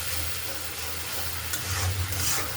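Beans, potatoes and eggplant sauté in a pan on a stove for a winter vegetable curry, giving a steady, close sizzle and hiss with a few stirring scrapes partway through.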